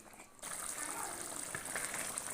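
Meat stock is poured into a pan of beef karahi, a sudden close gush of liquid that starts abruptly and sizzles steadily for a couple of seconds.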